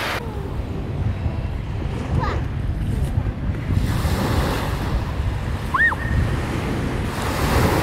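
Surf washing onto Nai Thon beach in Phuket, a continuous close rumble of waves mixed with wind buffeting the microphone, with faint distant voices and a brief whistle-like chirp.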